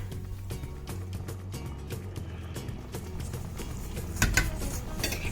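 A metal spoon scrapes and clinks against a pot in a steady rhythm while rice is mixed in as it cooks. The stirring grows a little louder toward the end, over a low background hum.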